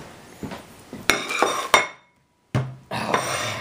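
A small plate is pulled out and set down in a kitchen, giving several sharp ceramic clinks and clatters, a brief silence, then more knocking and handling close by.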